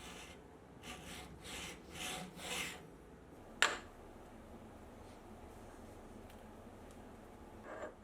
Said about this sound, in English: then I'll use a file to make the fit perfect.